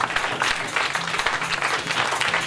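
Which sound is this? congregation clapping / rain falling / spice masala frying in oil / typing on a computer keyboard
congregation clapping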